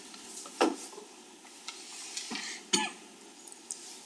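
A few short, sharp coughs at close range during a city council work meeting, separated by quiet pauses over faint room noise.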